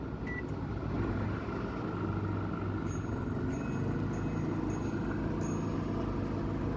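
An Engel 3500W inverter generator runs steadily nearby, a constant low engine drone with a few faint electronic beeps from appliances on top.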